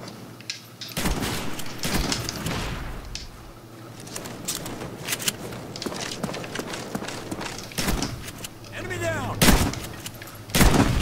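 Gunfire in Call of Duty Black Ops multiplayer: loud, sharp shots crack out repeatedly across the scene with uneven timing, some near and some more distant, over a busy bed of game noise.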